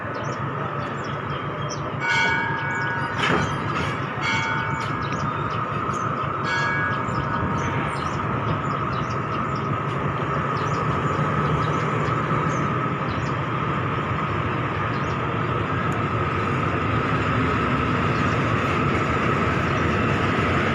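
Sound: Thai express train 634 waiting at a station

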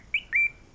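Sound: game console menu animation sound effect

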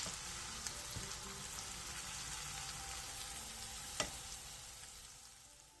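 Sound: pan-frying pork belly kimchi rolls

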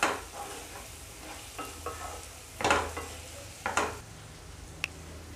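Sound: sweet corn being stir-fried in a pan

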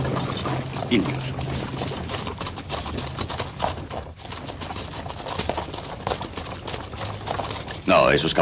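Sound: horses' hooves clip-clopping in a western film

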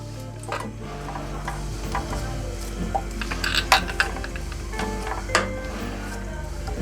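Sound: chicken frying in a pan

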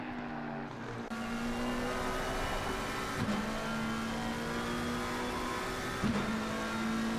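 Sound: Nissan race car driving into the pits, from a sim racing game

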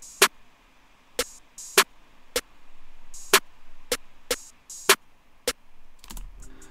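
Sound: snare drum sample in a trap beat

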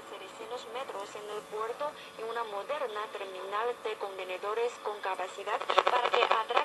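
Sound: telephone signal picked up by homemade radio receiver

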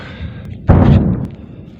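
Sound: distant explosions

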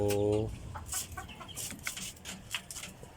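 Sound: native chickens clucking

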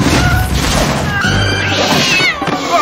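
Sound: cat meowing, cat demons in the film Alienoid

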